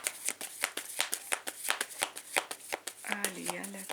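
A deck of tarot cards being shuffled and cut, with a fast, steady riffle of crisp card slaps close by and a voice speaking over the shuffling near the end.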